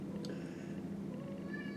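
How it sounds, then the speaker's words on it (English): A house cat meowing indoors, a faint short call near the start over a low steady background hum, with no speech. "I've got a pussycat that's come in."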